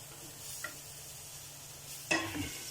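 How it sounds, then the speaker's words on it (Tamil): Onions and raisins sauté in a pan without oil, a faint low sizzle with a couple of brief stirring scrapes, the last one louder, and no voices. "ஒரு 2 நிமிஷம் நல்லா வதக்கினா போதும்."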